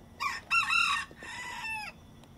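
A rooster crows loudly and close, a broken, strained cock-a-doodle-doo in two long harmonic bursts, over a quiet low background hum.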